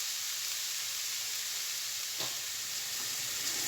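Onions steadily sizzling and frying in a pan as a lasagna filling is stirred, a continuous dense hiss with one brief clatter midway.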